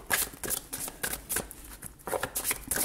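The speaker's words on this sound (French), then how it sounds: "je vais juste retirer d'autres petites cartes, justement, avec l'autre jeu" Tarot cards drawn and shuffled from a second deck, giving a run of soft, papery flicks and slides at close range with no voices.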